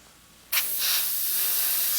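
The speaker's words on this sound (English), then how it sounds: "I'm going to spray just on the bottom" After a brief quiet, an airbrush bursts into a sharp, steady hiss of spraying paint, laying a fire effect along the bottom of the artwork and continuing unbroken to the end.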